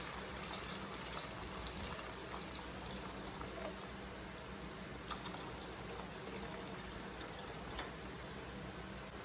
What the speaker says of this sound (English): And now we can already add some water.